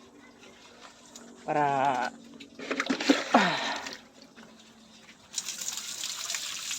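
Water is poured for pet pigs that have nearly finished eating, a gushing splash rising near the end, preceded by a short squealing animal cry and brief talking.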